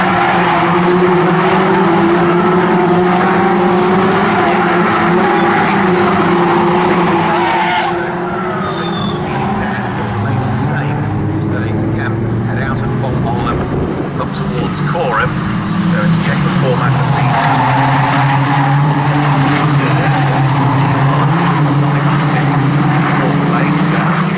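Caterham race cars lapping Snetterton circuit, engines howling and shifting pitch as the pack passes, loud and continuous, with a race commentator talking over the noise throughout.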